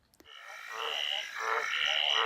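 A frog croaks repeatedly in a rapid, rattling series that starts after a brief click and keeps going, loud and close with no talking.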